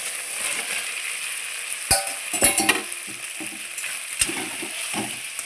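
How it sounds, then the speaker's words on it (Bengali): Potatoes and raw banana being fried in spice paste in a pan for a Bengali fish curry, giving a steady soft sizzle with a few sharp scraping stirs and clatters of a spatula, close by and with no talk. "মশলার সাথে আমি আলু আর কাঁচা কলাটা চার থেকে পাঁচ মিনিট ভেজে নেবো"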